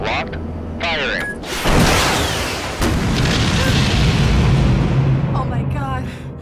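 Weapon fire and a heavy explosion in a disaster action movie, a loud booming blast that swells into a sustained roar, with voices and radio-like chatter over it.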